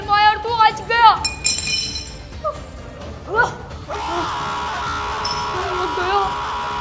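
Glass shatters in a horror video game with a coffin and a masked killer, a bright tinkling crash and clinking shards among game sounds and excited talk, followed by a sustained noisy rush.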